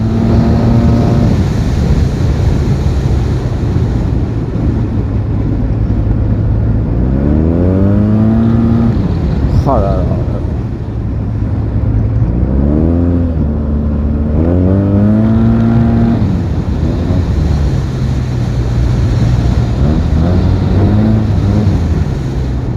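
A Yamaha TMAX 560 scooter with a Malossi Termignoni exhaust revs and accelerates on a road, its loud engine drone rising in pitch through repeated surges and easing between them, close and continuous throughout.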